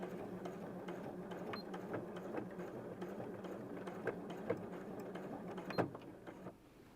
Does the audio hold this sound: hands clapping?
no